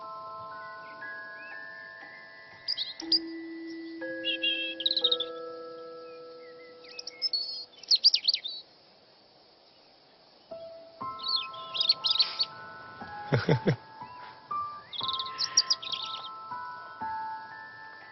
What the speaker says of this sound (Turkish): E, av kuşları var.